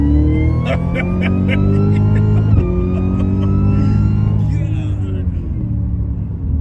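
A sleeper car accelerating hard from inside the cabin, loud engine roar climbing in pitch through gears with a brief shift break, voices talking over it.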